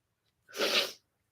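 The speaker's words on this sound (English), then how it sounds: "Oh, I'm going to sneeze." One sharp, close sneeze with a brief intake before it, set off by pepper up the nose, standing alone against near silence.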